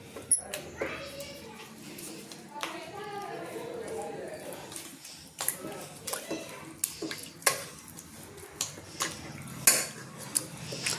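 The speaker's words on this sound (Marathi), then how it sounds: "जी घट्ट साई आहे ती अशी चमच्याने आजी फोडून घेते साई." A spoon works through thick milk cream in a pot to make ghee, giving repeated clinks and scrapes against the metal under ongoing kitchen noise, with sharper knocks toward the end.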